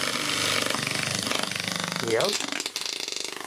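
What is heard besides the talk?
CMG electric motor running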